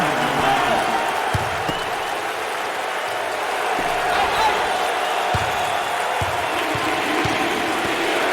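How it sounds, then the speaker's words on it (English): A virtual crowd cheers in the basketball video game NCAA March Madness 08, a steady roar of applause and shouting with occasional thumps, while a voice talks over it. "there's all kinds of people standing and cheering and going wacky"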